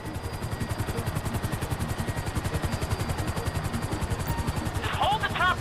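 A helicopter in GTA V thrums steadily throughout, its rapid rotor pulses loud and continuous, with a brief burst of higher clattering near the end.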